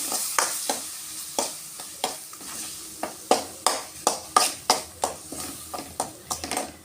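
A ground onion-tomato paste is stirred into egg curry masala in a pan, with a soft sizzle under a regular series of sharp scraping strokes, about two each second, close and clear with no talking.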